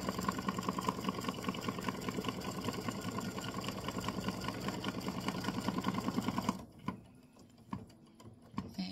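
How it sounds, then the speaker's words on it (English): Sewing machine stitching a small zigzag around the tail of an Easter bunny design, a fast, steady mechanical whirr with rapid needle ticks running for several seconds before cutting off to quiet clicks and handling noise. "I'm just doing a small zigzag around the tail."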